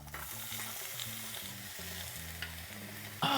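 Tomatoes hitting a hot pan of onions, garlic and serrano peppers, a steady close sizzle and frying hiss with stirring underneath, while music plays in the background.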